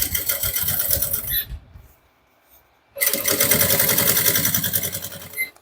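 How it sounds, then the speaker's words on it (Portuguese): Sewing machine stitching a handbag in two loud close runs of fast, even stitching separated by a brief quiet pause. "De fora a fora, agora é só costurando, ó."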